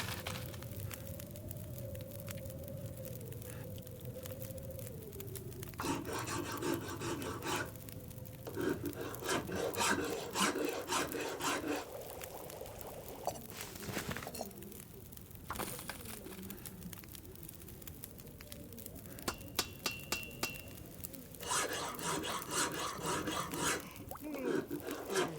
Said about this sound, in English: I'm going to make arrows with just whatever time is left.